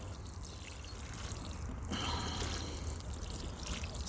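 Seaweed-based solution poured over a freshly potted KP mango plant in a sand and coir peat mix, a steady close trickle that swells slightly after the first two seconds and runs on without speech.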